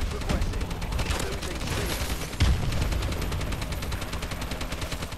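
Call of Duty: Advanced Warfare combat erupts with a rapid chatter of gunfire and a heavy missile-strike blast landing near the middle, loud and close throughout.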